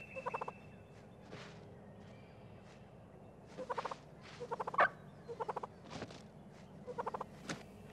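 A male eastern wild turkey gobbling during breeding season, several bursts of rapid rattling gobbles repeated at intervals across the stretch, fairly close and clear against a quiet outdoor background.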